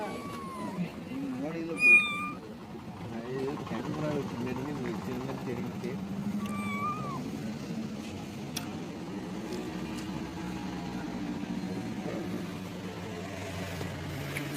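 A cat meows a few times, short rising cries over steady engine rumble and background voices.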